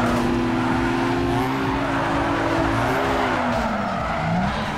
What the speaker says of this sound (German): Wie willst du nur mit dem Golf da driften?